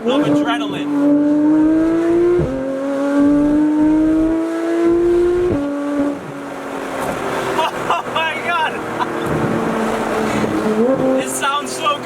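A Porsche 991 GT3 engine revs hard through repeated rising pulls, each climbing in pitch before a brief drop at the shift, loud and close with a shrill, race-car-like wail and a voice faintly underneath.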